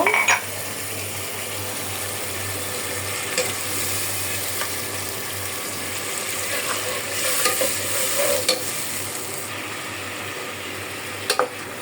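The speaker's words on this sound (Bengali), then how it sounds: "এখন আমি মাছটা আগে কষায়া তারপরে লাউ ছেড়ে দিব" Singi fish sautéed with spices in a pot before bottle gourd goes in for curry, giving a steady close sizzle throughout with scattered scraping clicks of stirring.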